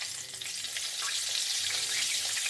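Oil sizzles and crackles steadily as potatoes fry in a pan, a close, continuous hiss with no talking.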